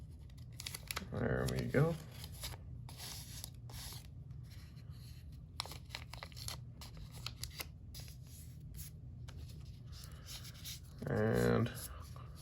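Tape is torn and wrapped over the blade of a Benchmade 940 knife, with two short, close ripping pulls separated by quieter rubbing and handling, plus a brief spoken remark.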